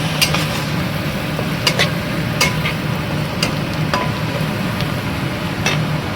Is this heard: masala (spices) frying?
yes